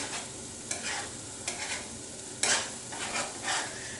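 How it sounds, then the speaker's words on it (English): Plain rice being stir-fried in a hot pan, with a soft steady sizzle broken by several sharp scrapes and clatters of a utensil against the pan, heard close with no talking. "This is just going to be plain fried rice."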